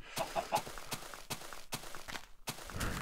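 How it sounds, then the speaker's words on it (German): Chickens cluck in the Minecraft video game, several short, sharp clucks in an uneven rhythm at close range, with soft footstep-like taps between them and no speech. "Ihr Hühner nervt."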